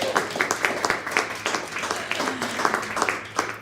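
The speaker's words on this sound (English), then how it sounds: "big round of applause" Audience applause at a live show, moderately loud scattered clapping with distinct individual claps, a few voices mixed faintly underneath.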